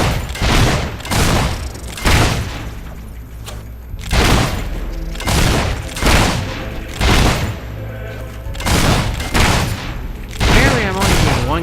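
Gunfire in the video game Fable 3, loud repeated booming shots in a steady rhythm of roughly one blast per second, each with a heavy thud and rumbling tail.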